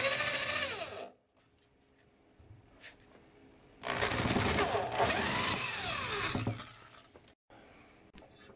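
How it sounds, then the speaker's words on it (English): A 3/8-inch power drill bores through a door in two loud bursts of whining, revving motor noise separated by a quieter gap with faint knocks. "now we're going to go to the outside of the door with the 3/8 drill"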